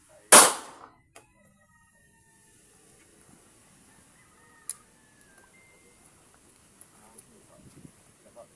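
Near the start, a single loud, sharp gunshot cracks outdoors on a windy day. It is followed by a long stretch of faint, low wind rumble with a few small clicks and knocks.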